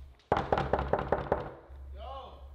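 Seven sharp knocks on a house door in an even rhythm, loud and close, followed by a brief faint voice.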